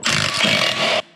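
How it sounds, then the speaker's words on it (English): A 3/8 ratchet spins out wheel cylinder bolts on a GM 10 bolt rear axle, a loud, close, rasping whir lasting about a second before cutting off abruptly. "with a 3/8, we're gonna come in behind and we're gonna pull the 2 bolts that hold our wheel cylinder out"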